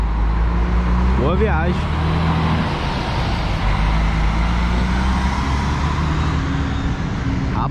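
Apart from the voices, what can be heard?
buses departing the Tietê bus terminal, São Paulo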